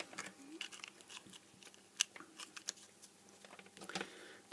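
Plastic casing of a converted tungsten-to-LED fairy light being pressed and snapped back together, a handful of small sharp clicks and crunches close by, fairly quiet.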